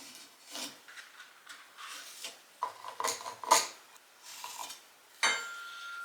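A pencil draws layout lines on a timber brace for a timber frame home, producing faint scratchy strokes in short irregular bursts with quiet pauses between them.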